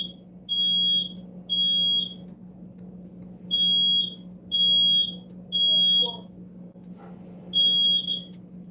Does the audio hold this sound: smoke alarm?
yes